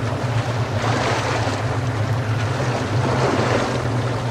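Broad, steady rush of river water flowing in the video game Metro: Last Light, loud and continuous with a low rumbling undertone and no voices.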